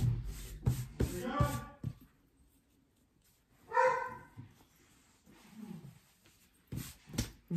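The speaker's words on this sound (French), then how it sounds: "Mon gros chien qui aboie tout le temps." A big dog barks in several loud bursts at the start and end, with a whimpering yelp in the middle and quieter gaps between, heard indoors.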